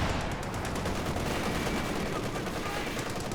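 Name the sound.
tank gunfire in video game Company of Heroes 2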